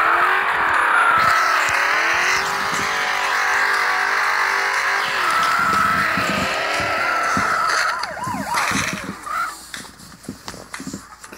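Car crash in the video game Turbo Dismount: a sustained engine drone shifting in pitch, then a burst of clattering impact noise toward the end.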